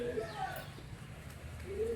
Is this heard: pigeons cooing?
yes